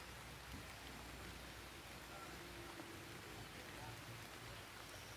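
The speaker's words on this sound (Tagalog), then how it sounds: "Yuppie, it's raining guys," Steady rain falls by a river bank, a dense, even hiss of drops with no pauses, faint and continuous throughout.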